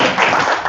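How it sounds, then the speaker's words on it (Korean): A brief, dense burst of audience clapping at an academic conference session on smart water grids, loud and close with no pauses. "박수도 쳐주시면서"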